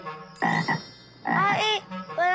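A frog croaks in several loud, close, throaty bursts with short pauses between them.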